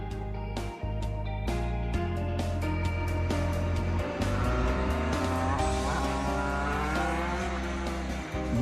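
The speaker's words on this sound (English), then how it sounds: "This particular model has a 50cc 14 horsepower engine. Pretty impressive for a kid's motorcycle." Kid's mini GP motorcycle with a 50cc, 14 horsepower engine, revving loudly and steadily with rising and falling pitch sweeps, a brief dip near one second, under a layer of background music.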